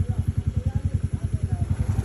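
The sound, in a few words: motorcycle engine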